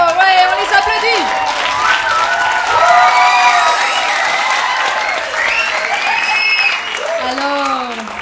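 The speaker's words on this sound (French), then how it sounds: "1, 2, 3, ouais, on les applaudit" An audience applauding volunteers coming on stage at a music show, loud sustained clapping with cheers, whoops and children's shouts mixed in, and several voices calling out over the crowd.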